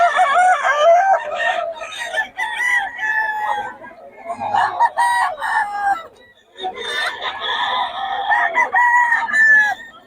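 Quality roosters at a Bocaue, Philippines venue crow loudly and repeatedly, with overlapping cock-a-doodle-doo calls and clucking running nearly continuously, close by.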